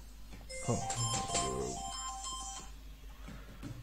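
A telephone rings with a burst of bright electronic ringtone notes lasting about two seconds. It sounds fairly faint and slightly distant against a quiet room hum, then fades back to near silence.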